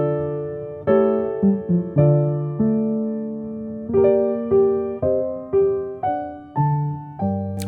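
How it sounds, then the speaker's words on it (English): Minor-key chords struck on a piano, a slow sequence of about ten sustained, ringing chords, each blooming then decaying before the next, played alone without voices. "Sometimes he switches it to minor, then it would sound like this."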